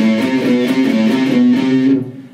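A fast, loud neoclassical sequence of distorted electric guitar notes in a tight repeating pattern, ringing out briefly before fading.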